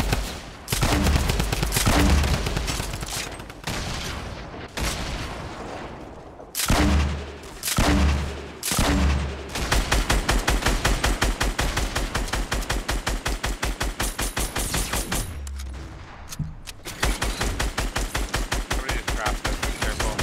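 Gunfire in the battle royale game Fortnite, with heavy booming shots early on, then long stretches of rapid automatic fire in tight, evenly spaced bursts, loud and close throughout.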